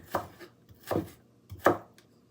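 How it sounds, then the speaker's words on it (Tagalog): Sharp kitchen knife chopping fresh ginger on a board, three distinct close, crisp strikes spaced about three-quarters of a second apart, with no talk. "be very careful guys while you are using the sharp object like knife, like this one"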